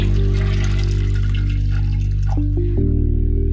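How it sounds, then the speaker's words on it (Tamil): Water is poured into a pot of snake gourd and lentils, making a short, close splash and trickle over a steady low hum that shifts partway through. "புடலங்காவும் பருப்பும் வேகிறதுக்கு தேவையான அளவு தண்ணி"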